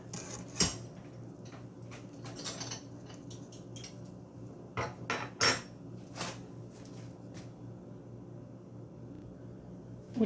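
A spoon stirs yeast, milk and sugar together in a bowl, giving scattered light clinks and taps against the bowl, with a few sharper knocks among quieter scraping.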